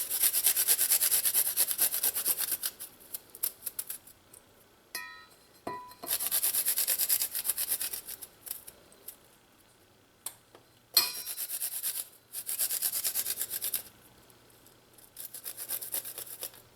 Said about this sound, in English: we're gonna grate in our garlic in here